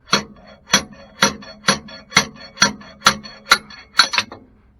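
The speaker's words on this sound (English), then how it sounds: "And then I'll just hammer that seal out." About ten sharp metallic hammer blows knocking out a pinion seal on a Mack truck differential, in a steady rhythm, close and loud, each ringing briefly before the next strike.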